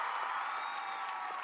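Convocation audience applauding and cheering at a college graduation ceremony, a steady wash of clapping from a large crowd with scattered whoops, continuous and moderately distant.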